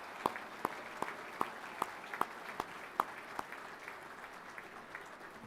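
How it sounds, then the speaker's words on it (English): Applause at a football premiership reunion luncheon, soft and distant, with a steady spread of clapping and a few distinct sharper claps standing out at a regular pace. "Big round of applause."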